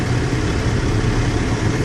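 A truck tractor's engine strains in low gear against the engaged spring brake, a steady, loud low-pitched drone with no change in pace and no talking.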